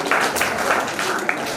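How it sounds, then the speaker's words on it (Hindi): Audience at a school career guidance seminar claps steadily, a dense continuous patter of many hands at close to moderate distance with no pauses. "इनके लिए ताली बजाओ सबसे पहले।"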